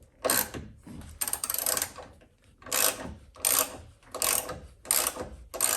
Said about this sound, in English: Got to wrench it all the way.